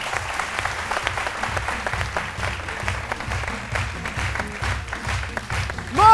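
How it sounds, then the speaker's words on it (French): A live audience at a MASA 2016 radio broadcast gives a steady round of applause, dense and sustained for several seconds, with a brief tonal sound and a louder burst right at the end. "je vous demande de l'applaudir"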